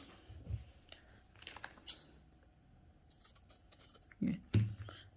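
Scissors cut cloth for a ladies' neck design, making a few faint, scattered snips and clicks with two sharper cuts near the end, with no talking.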